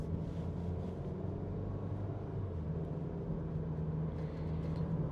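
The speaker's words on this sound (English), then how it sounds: "We're gonna go back out here and let it shift up through the gears one more time." A high-mileage Jeep Compass accelerates at a normal pace, its low engine drone steady and fairly quiet inside the cabin, with the pitch stepping as it shifts up through the gears.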